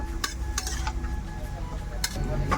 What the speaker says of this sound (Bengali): লবণটাকে ভালোভাবে মিশিয়ে নেব